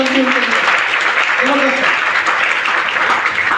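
Audience applause fills the room steadily for several seconds, broad and continuous, with a voice speaking over it briefly near the start and again around the middle.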